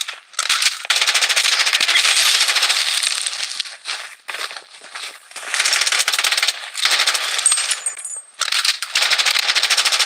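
Rapid machine-gun fire in the battle royale shooter Blood Strike, loud continuous bursts of rattling shots broken by short pauses, close and dominant throughout.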